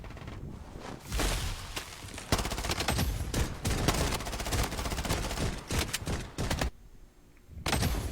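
Sniper rifle gunfire in a fast online shooter video game: a rapid run of sharp, loud shots and bursts, close and dense for most of the stretch, with a brief lull near the end before more fire.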